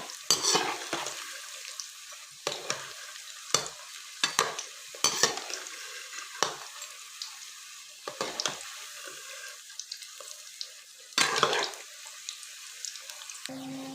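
Onion pakoras frying in oil, a quiet bubbling sizzle broken by repeated sharp scraping stirs and clatters of a utensil at irregular intervals, close by and without speech.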